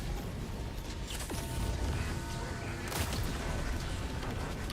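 Walking barrage artillery strikes land in a video game, making dense rumbling booms and cracks that continue for the whole stretch with a few sharper impacts standing out.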